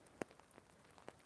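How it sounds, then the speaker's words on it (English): Faint, close raindrops patter on a surface, a few distinct taps standing out over a soft, steady background. "it's raining right now"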